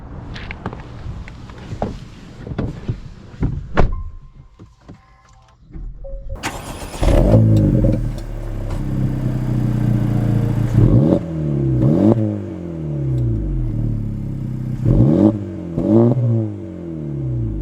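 A 2024 Acura Integra Type S starts up after brief footsteps and door sounds, then its engine revs and accelerates through several gear changes, loud and close with rising sweeps.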